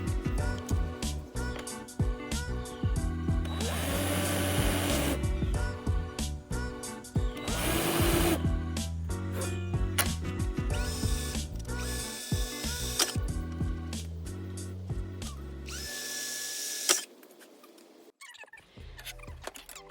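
A power drill countersinks screws into 1/4-inch plywood squares during a van build, whirring in repeated bursts with ratcheting clutch clicks and brief pauses, close and loud, ending in near quiet.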